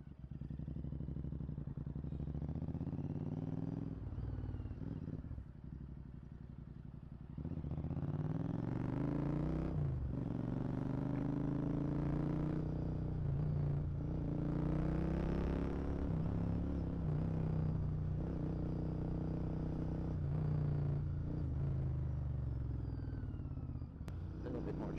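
A motorcycle cruises at a sustained 80 km/h with a continuous engine rumble and wind roar. Brief gear or throttle changes appear early, then it holds steady and fairly loud. A rider's voice appears intermittently over the engine.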